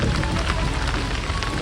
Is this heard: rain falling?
yes